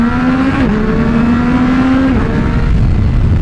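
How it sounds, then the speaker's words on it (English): R9 motorcycle downshifting and accelerating through a tunnel, a loud close engine holding a steady pitch, then dropping as it shifts, with rumbling wind underneath. "We do have a little bit of a tunnel here. Let's see if I'm gonna downshift and really get it going."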